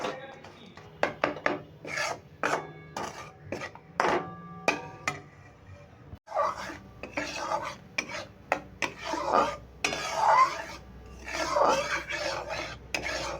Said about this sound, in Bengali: চিনিটা নাড়তে নাড়তে প্রথমে দানা দানা হয়ে ঝরঝরে হয়ে যাবে